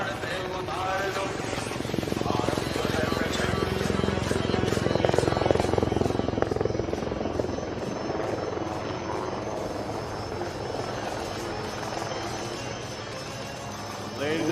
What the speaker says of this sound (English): here she is, the light combat helicopter Prachand, right in front of you.